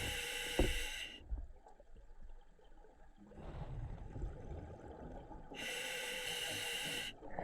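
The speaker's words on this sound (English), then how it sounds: "I've been breathing quite hard" A scuba diver in Loch Fyne, Scotland, breathes hard through a regulator underwater: a loud hissing inhale, then a bubbling, gurgling exhale lasting several seconds, and another sharp hissing inhale, close and alone.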